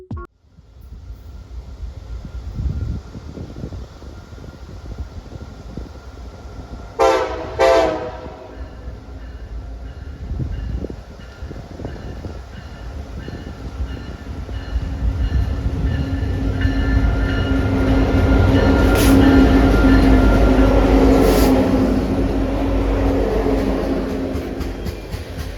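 A BNSF freight train passes on the Fort Scott Subdivision, giving two sharp horn blasts early on, then a steady roar of rolling wagons that builds louder and closer before easing slightly.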